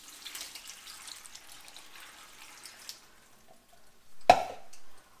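Water poured into a big pot of vegetable peelings to make vegetable broth: a soft, uneven trickle at first, then a sudden loud splash and gush that keeps running briefly at the end.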